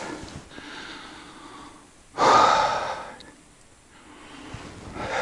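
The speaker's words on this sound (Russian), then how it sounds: "Запыхался." A winded man breathes heavily after exertion outdoors at a frozen taiga lake: quiet panting, then one loud close gasping exhale, trailing off into softer breaths, with no talk.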